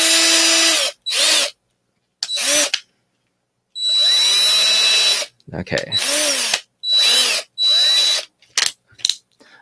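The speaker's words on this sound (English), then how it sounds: "All right, so I have my drill here." A power drill whirs in repeated short bursts while installing an arcade joystick for a Star Wars Arcade1up StarCade mod kit, with pauses between runs and a brief spoken word partway through.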